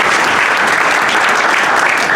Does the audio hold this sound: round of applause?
yes